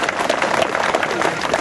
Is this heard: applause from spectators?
yes